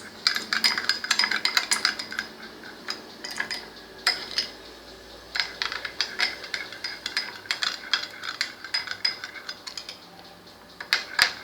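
Spoon stirring sugar into curd starter in a bowl to dissolve it, giving a steady run of close, quick metallic scraping and clinking strokes that continue throughout with no talking.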